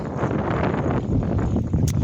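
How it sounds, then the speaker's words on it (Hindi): Cool wind blows outdoors beside a canal, a steady, close rushing roar that buffets the microphone without a break. "देखो फ्रेंड, कितनी ठंडी हवा चल रही"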